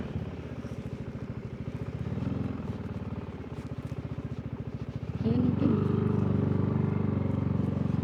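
A motorcycle engine runs nearby at a camp setting in Zambales, its steady putter rising abruptly to a louder, higher rev midway as it moves off, with faint voices in the background.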